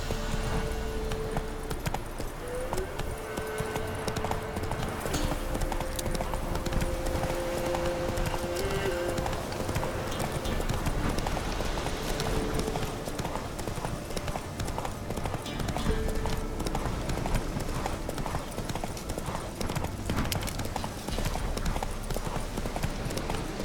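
Roach the horse gallops in The Witcher 3, hooves pounding in a steady rapid clip-clop that runs unbroken for over twenty seconds, close and busy, with a tonal hum of game sound underneath.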